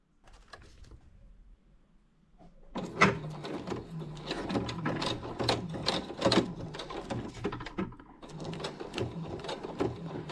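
A sewing machine stitches waterproofed cotton for a collapsible dog bowl, starting after a quiet pause and then running in loud, close bursts of rapid mechanical chatter with short breaks between runs.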